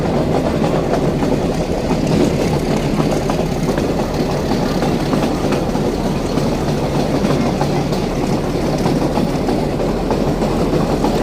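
A heritage train runs through the Gir forest in Gujarat, its wheels clattering in a loud, continuous rumble with a rhythmic rail click and engine drone throughout.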